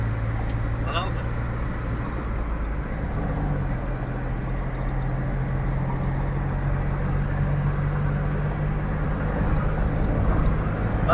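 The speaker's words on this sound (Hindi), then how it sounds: "आ चुके हैं हम रोड पर, अब लेंगे गाड़ी की ट्रायल।" A Mahindra Bolero with a fault that makes it run backwards and smoke from both silencer and air filter, heard on a road test drive as a steady, close engine drone and road rumble throughout.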